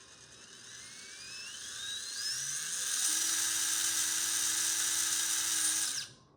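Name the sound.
brushless RC crawler motor spinning up on 2S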